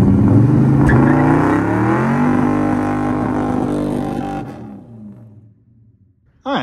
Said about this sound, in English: We could try burnouts, you know, in a car with an engine that I built in my shed.